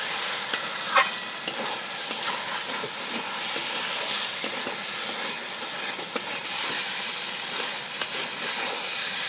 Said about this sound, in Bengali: ধনে পাতা, ধনে পাতাটাকে দিয়েও একটু কষে দেবো